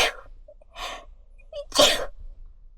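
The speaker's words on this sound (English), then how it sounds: "I have to sneeze a little." A short breathy intake, then another, building to one sharp, loud sneeze close by, outdoors in Yokohama, Japan.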